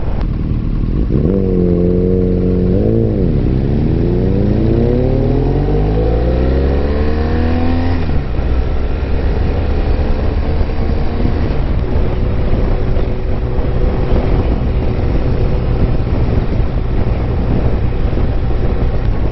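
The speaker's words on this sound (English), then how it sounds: "Bike is riding beautifully." A 2016 BMW R1200RS motorcycle on the road after a driveshaft service, engine note sweeping up through the gears and then settling into a steady cruise, with heavy wind rush throughout.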